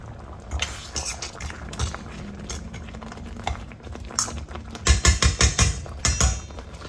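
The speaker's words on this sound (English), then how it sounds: "if you're wondering why I'm cooking with a fork" A fork scrapes and clinks against a pot of simmering Japanese curry gravy, irregular taps and a brief run of rapid sharp clinks near the end, close over a soft bubbling background.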